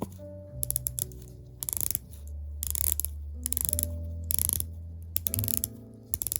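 The rotating bezel of an Oris Aquis Small Seconds Date stainless steel watch being turned: crisp, close ratcheting clicks in several quick runs with brief gaps, faint and delicate.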